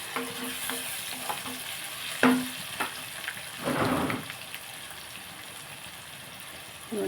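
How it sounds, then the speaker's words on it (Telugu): Potato pieces tossed into brinjal curry frying in a pan, with steady loud sizzling under a few scraping stirs and a sharper clatter partway through, close up with no talking. "బంగాళదుంపల ముక్కలు వేసేస్తున్నాను."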